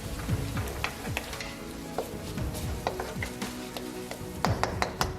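Ginger garlic paste and curry leaves fry in hot oil, a steady sizzle broken by frequent scrapes and knocks of a spoon stirring the pan, close and fairly loud.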